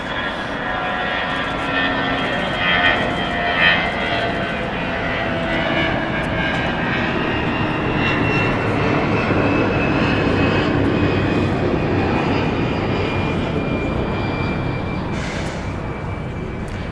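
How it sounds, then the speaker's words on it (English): A Delta jet airliner on the runway at LAX produces a loud, sustained engine roar that swells gradually and holds steady throughout, heard from a distance across the airfield without talk. "So this should be the Delta flight to DFW"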